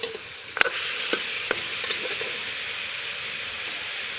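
Beef sizzling in a pan while being fried for korma, a steady hiss with a few sharp spoon clanks and scrapes early on, moderate and close.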